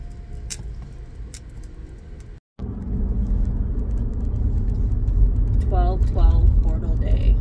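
A car drives along a road on the way home from work, its steady low road rumble and engine noise filling the cabin, briefly cutting out before resuming and growing a little louder, with a few faint tonal chirps near the end.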